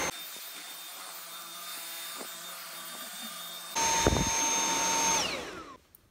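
A Dyson V7 Animal+ cordless vacuum with its electric motorized attachment cleans a rug with a steady whir that jumps to a louder, harsher roar partway through, then winds down and cuts off near the end.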